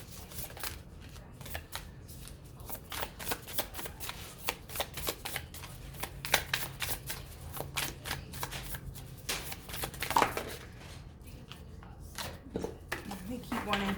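Tarot cards are shuffled steadily by hand for a weekly reading, giving a long run of dense, riffling and rustling flicks up close, with a few louder snaps scattered through.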